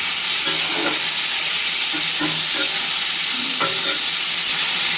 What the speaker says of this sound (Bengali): লবণ আর হলুদের কম্বিনেশনে গাজর আলু ভাজা হয়ে যাচ্ছে।